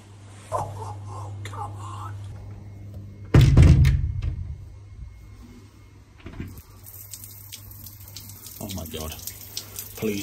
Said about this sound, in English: I can shower, I can scrub me old...